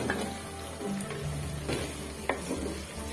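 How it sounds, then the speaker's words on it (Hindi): Black cardamom pods and cloves fry in hot oil in a pan, giving a soft, steady sizzle with a few light stirring scrapes and taps near the front. "2 मिनट हो गए हुए हैं बड़ी इलायची और लौंग को फ्राई करते हुए"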